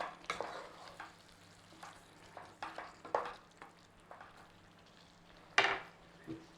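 Mushrooms cooking in a pan for a mushroom madras, with soft scraping stirs and faint sizzling, a few sharper clinks of utensil against pan, quiet and close, with no talking.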